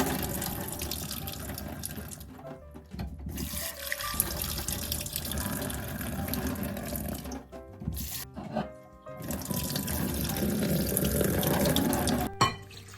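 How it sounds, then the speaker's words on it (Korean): Soaked seaweed (miyeok) being rinsed under running tap water for birthday seaweed soup: a steady splashing stream pours into a sink, broken by a few short pauses as the flow is interrupted. "불린 미역을 흐르는 물에 3번 헹군다."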